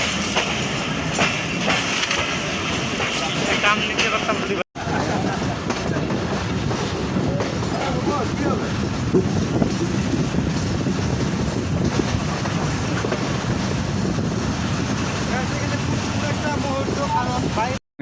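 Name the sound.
Barendra Express train running on rails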